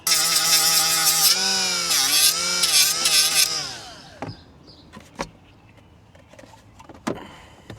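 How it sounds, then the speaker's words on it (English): A small die grinder whines at a high pitch, its tone sagging and recovering as it bears into the corners of a cutout, then spins down. A few sharp clicks and knocks follow in the quiet. "I really just need to take my little die grinder to the corners here."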